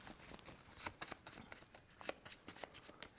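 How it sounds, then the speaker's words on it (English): Six Harbinger cards from the Mysticana card game being shuffled by hand, a close, steady run of crisp riffling card flicks with no voices. "giving those a good shuffle"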